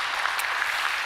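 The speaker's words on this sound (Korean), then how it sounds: "1년 동안 수고하셨으니까 박수 쳐도 되는가?" A church congregation at a Sunday service applauds, a brief, even wash of clapping sustained through the whole short moment.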